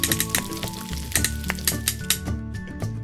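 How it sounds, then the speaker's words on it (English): A slice of Swiss cheese melts on a toy grill with a crackly sizzle and bright popping bursts, broken up by light scraping and clinking. The sound is close and moderately quiet, and no one speaks. "I have this slice of Swiss cheese, which I'll melt on the grill. You can hear it cooking."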